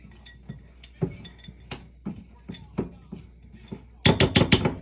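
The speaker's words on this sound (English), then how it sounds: "We're going to go check this chocolate. This time we're going to give it a quick stir." Spoon stirring melted chocolate for candy, a run of light clinks and taps against the bowl, close and irregular, ending in a quick burst of brighter clinks.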